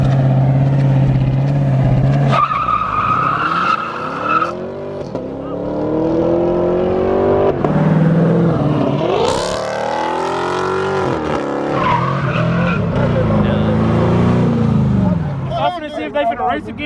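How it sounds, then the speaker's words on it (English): Street race cars revving and accelerating in a daylight grudge race, engines rising and falling in pitch through repeated loud pulls, with voices talking over the engine noise. "These guys are about to line up here for a race real quick"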